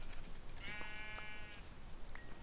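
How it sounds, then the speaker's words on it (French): Sheep in a survival video game bleat with a drawn-out, wavering call that stands out above steady ambient game noise, followed by a brief, fainter second bleat near the end. "Encore un mouton."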